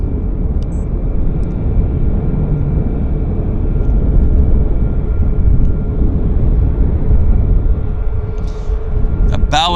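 A Boeing airliner taxis at Vancouver airport, its engines a steady, loud low rumble and whine that holds throughout with no voices.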